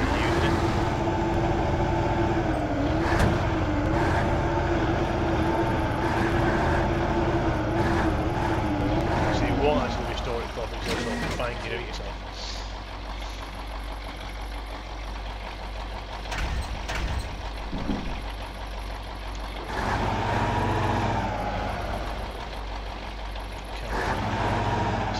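Heavy truck engine in the Spintires off-road driving game, a steady low droning rumble that holds for about ten seconds, then drops to a quieter uneven churn with intermittent revs while a person talks over it.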